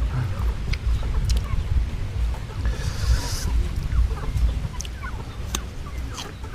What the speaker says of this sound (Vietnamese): Gà nhiều rồi.